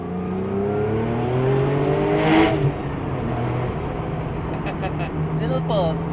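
A classic car's engine pulls in short bursts while driving, a loud, steady drone swelling and easing under a voice talking over it.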